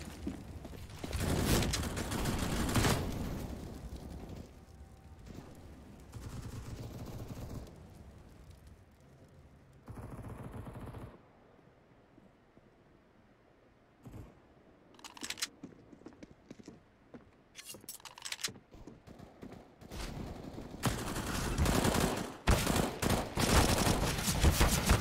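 FAMAS rifle gunfire in Counter-Strike on the Vertigo map during an esports match, with rapid bursts of sharp shots coming in clusters amid quieter stretches and mechanical clicks.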